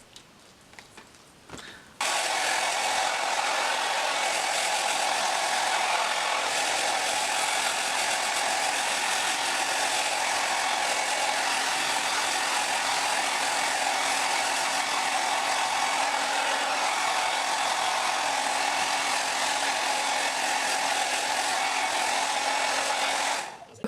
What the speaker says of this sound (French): vous allez prendre le sèche-cheveux et sécher